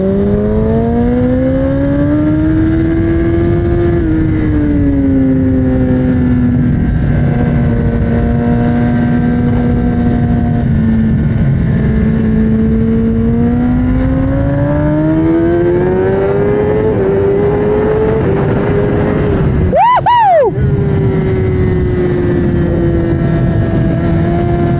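A loud 2024 Kawasaki ZX-10R sport motorcycle engine revs and climbs steadily in pitch for a long stretch, with a brief sharp gear shift near the end before it pulls on.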